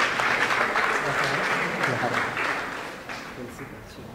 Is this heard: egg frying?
no